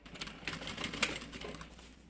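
A sewing machine stitching a fabric bag gives a short, fast mechanical chatter of needle strokes, a couple of seconds long, fairly quiet and close, with no talk.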